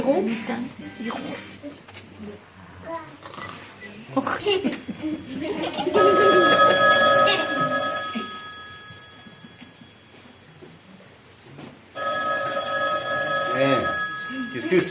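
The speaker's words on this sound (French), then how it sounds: "Le téléphone, je crois." An old-fashioned telephone bell rings loudly in two long bursts during a French children's Christmas stage play, with actors' and children's voices talking before and between the rings.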